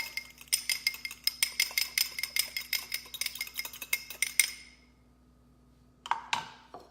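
A utensil stirring a feta cheese salad mixture in a bowl gives a rapid series of bright clinks and scrapes for about four seconds, then silence, then two last taps against the bowl.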